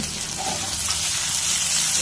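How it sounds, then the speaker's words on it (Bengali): Cut potato pieces frying in hot oil with turmeric and salt for a chilli chicken recipe, a steady, close sizzle with faint bubbling that holds throughout, no talking. "এইবার দিয়ে দেবো হলুদ আর দিয়ে দেবো লবণ, দিয়ে এটাকে লাল লাল করে ভেজে নেব"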